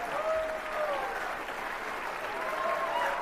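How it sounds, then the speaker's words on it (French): A crowd at a political rally applauding in a dense, continuous roar of clapping, with a faint voice briefly audible over it. "Écoute la foule."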